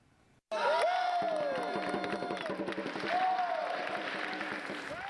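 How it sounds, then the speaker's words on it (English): Packed standing-room crowd at the Major League Table Tennis championship match in Philadelphia roars and cheers loudly after a quiet start, a dense sustained wash of voices and applause with a whistle-like tone rising through it. "We're going to have a packed standing room only crowd today."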